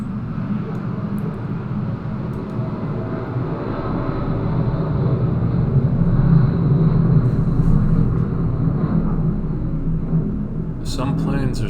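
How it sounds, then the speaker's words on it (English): A low-flying airplane passing right over a house, heard from a basement as a steady, heavy rumbling drone that swells slightly toward the middle and then eases. "Some planes are super loud."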